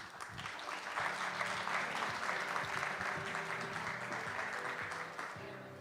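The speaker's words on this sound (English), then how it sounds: "please welcome him with a big round of applause" Conference audience giving a big round of applause to welcome a forum moderator, sustained dense clapping filling the hall, steady and fairly loud, with a faint low murmur or hum beneath and no clear speech.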